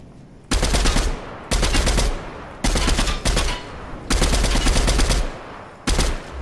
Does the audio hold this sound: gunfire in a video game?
yes